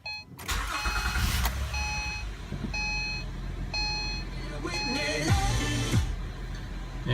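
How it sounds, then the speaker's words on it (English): A 2012 Acura TL starts up just after an alternator replacement, its engine catching and settling into a steady idle, with several short electronic chimes sounding over the running motor. "Let's start the car now."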